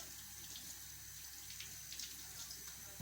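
Cleaned sardines are rinsed under a running kitchen tap, giving a soft, continuous hiss of flowing water with faint splashes, quiet and steady and free of speech.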